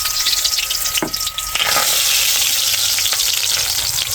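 Alu vadi, colocasia leaf rolls, frying in hot oil with a steady loud sizzle throughout, broken by a few sharp clinks and shifting bursts as the pieces are moved.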